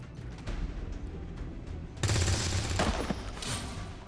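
Gunfire in XCOM 2, starting with scattered muffled shots, then a sudden loud burst of rapid fire with heavy overlapping reports partway through, close and dominant.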